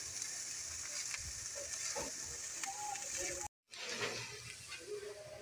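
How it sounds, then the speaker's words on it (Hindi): Spices such as ground black pepper and cumin powder sizzle lightly in a pan for vegetable fried rice, with a steady frying hiss broken by scraping stirs and a brief cut partway through. "मसालों को हम हल्का सा फ्राई करेंगे।"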